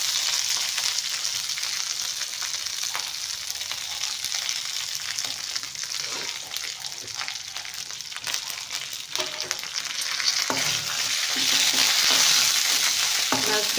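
Spices and curry leaves sizzle in hot oil in a pan: a continuous close crackling fry with occasional stirring scrapes, growing louder toward the end.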